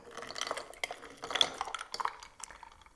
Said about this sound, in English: And then a final touch, adding some ice cubes.